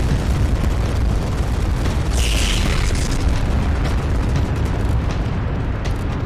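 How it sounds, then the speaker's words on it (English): Giant Gatling cannons fire nonstop in the StarCore space combat game, making a dense, heavy booming roar that stays loud throughout with no pauses. "Yep, that's the Sharons, the giant Gatling cannons."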